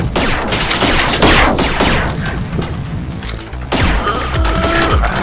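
Loud, dense game combat in the VR video game Rec Room, with shotgun blasts and crashing impacts piling up continuously over several seconds.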